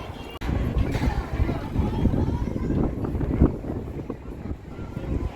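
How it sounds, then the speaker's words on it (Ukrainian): Strong wind on Tibidabo hill in Barcelona buffets the microphone with a loud, rumbling roar that gusts continuously throughout. "А вітер тут такий, що, дай Боже."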